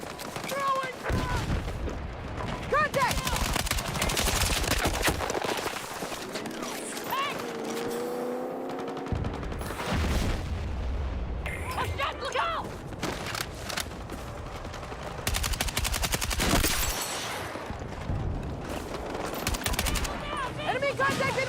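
Dense video game gunfire in an online shooter, with rapid machine-gun bursts and loud individual shots mixed with vehicle and mechanical noise. Voices talk over the shooting throughout.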